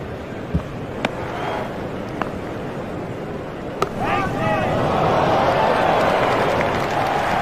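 Crowd at a cricket stadium during an IPL 2021 match between Mumbai Indians and Punjab Kings, cheering and roaring after a shot. The noise swells and stays loud, with a few sharp bangs early on.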